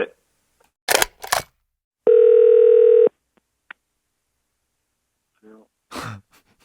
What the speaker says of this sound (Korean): 그 전화 연결 중입니다